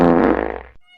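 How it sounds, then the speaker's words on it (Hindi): A loud, drawn-out fart in an Awadhi village comedy sketch, a long rasping blast that gradually breaks into sputtering pulses before cutting off, then a brief faint noise at the end. "अरे हमारी माई इतना बिकट सार पादत"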